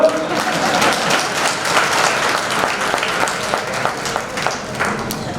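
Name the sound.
audience applause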